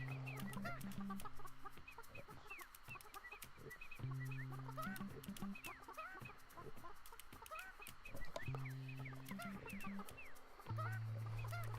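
Chickens cluck repeatedly in the video game Burly Men at Sea, short clucks and calls scattered over steady looping game music that plays throughout.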